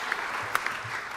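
An audience at a Christmas play rehearsal gives a brief burst of clapping, a short moderate patter that lasts only a moment.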